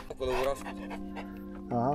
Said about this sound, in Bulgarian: Голямо куче.